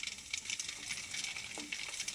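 Fuchka shells frying in hot oil give a dense, close hiss and crackle throughout, with a brief faint thud partway through.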